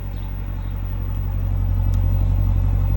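Deep, steady rumbling drone of a 2020 Dodge Durango SRT's 392 V8 engine, a close, loud, even burble building slightly in intensity, with no talking.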